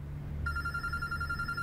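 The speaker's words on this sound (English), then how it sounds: "the phone's ringing, no sweat. Pick it up and act cool." A telephone starts ringing in the video game Road 96 with a steady electronic trill that sets in after a moment over quiet background noise.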